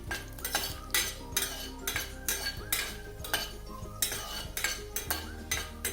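Whole spices roasting in a cooking pan as a utensil stirs them, giving regular metallic scrapes and clinks with a faint sizzle underneath.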